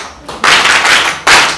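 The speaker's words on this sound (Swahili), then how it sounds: "Pigeni makofi" An audience claps hands at a church gathering, two loud bursts of applause close by, the second starting after a short dip.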